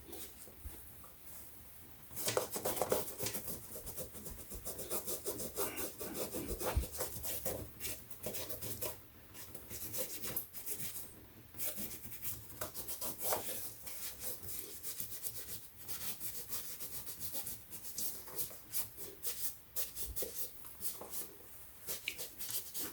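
A dirty shoe's rubber sole being rubbed and scrubbed clean, a continuous close, quiet scratchy friction with uneven strokes that runs on without talking.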